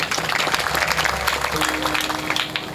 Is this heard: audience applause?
yes